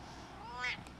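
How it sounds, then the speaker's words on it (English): A cat gives a single short meow that rises in pitch, heard close over a low indoor background hum. "What was that? Meow, meow, meow, meow."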